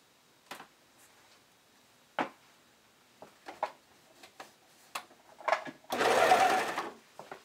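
Sewing machine stitching the side seam of a bikini top's lining, short separate whirring bursts of stitching that end in a longer, louder run, close and quiet with no talk.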